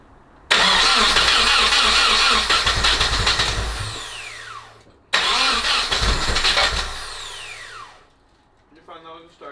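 A rebuilt Nissan KA24DET engine cranks twice in close succession, each a loud burst of starter churn and engine noise lasting a few seconds before fading, followed by a brief unsteady sputter at the end.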